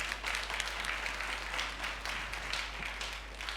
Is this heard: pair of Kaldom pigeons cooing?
no